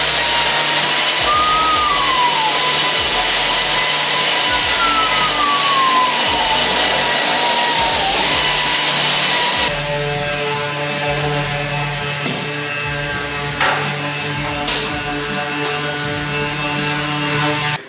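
A car engine drones steadily through a twin-exit exhaust out of the rear bumper, a loud, continuous buzzing hum that shifts to a slightly lower, smoother tone partway through, with no voices.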